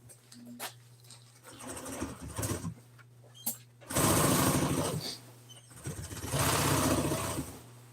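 A sewing machine stitches a lock onto an item in several separate runs of rapid needle chatter, each a few seconds long with short pauses between, close and fairly loud.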